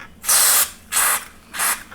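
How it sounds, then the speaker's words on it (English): Three bursts of aerosol contact cleaner sprayed onto a crunchy control of a Behringer EuroPort EPA150 portable PA system, each a loud broadband hiss of about a third of a second, separated by short pauses, close and with no voices. "The magic of contact spray."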